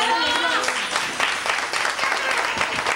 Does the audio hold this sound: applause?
yes